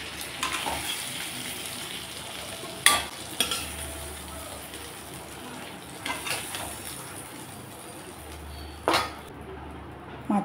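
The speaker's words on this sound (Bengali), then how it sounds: "আলুগুলোকে এখন একটু লালচে করে ভেজে নিই" Potato pieces frying in hot oil in a pan until reddish, a soft steady sizzle broken by a few sharp scrapes and clinks of a spatula stirring, fairly quiet with no talk.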